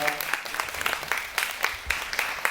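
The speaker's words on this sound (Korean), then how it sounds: "큰 박수 한번 부탁드릴게요." A small audience at a documentary film library talk gives a brief round of applause, scattered claps with uneven peaks at moderate distance, fairly quiet overall.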